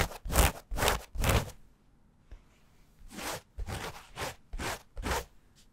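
Rough, scratchy rubbing of stiff, slubby selvedge denim in short bursts, three quick strokes, a pause, then five more, close and fairly loud.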